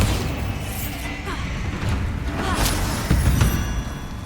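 A Bombarda explosion spell in the wizarding action game Hogwarts Legacy: a loud, booming blast with whooshing and crackling debris over a dense combat soundscape, close and heavy throughout.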